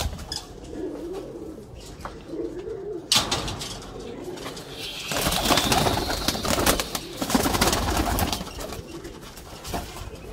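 Pigeons cooing steadily in a loft, with overlapping soft throaty coos and occasional wing flutters, close and fairly loud throughout, with no talking.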